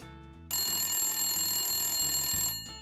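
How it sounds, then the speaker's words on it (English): A telephone bell rings loudly and continuously for about two seconds, with a steady electronic trill that cuts in sharply after a quieter low hum and stops just before the end. "The phone was ringing, which was odd, because he didn't remember having a phone"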